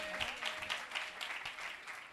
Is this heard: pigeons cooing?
no